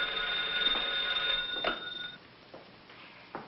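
A telephone rings in a 1955 film scene: a sustained bright electric bell trill for about two seconds, then stops, followed by soft clicks and quiet room tone.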